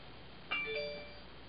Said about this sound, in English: there was a little notification on my phone